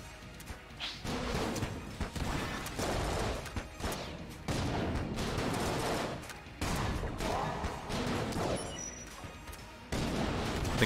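Stinger weapon shots in the video game Enter the Gungeon, a dense run of booming blasts and crashing impacts that comes in bursts separated by brief gaps, loud and continuous over busy game noise, with no talk.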